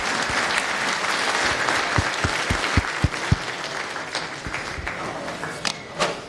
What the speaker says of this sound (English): Round of applause for Rita.